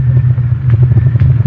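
A car engine drones low and steady at close range, a continuous rumble with faint rattles, as a radio drama driving effect.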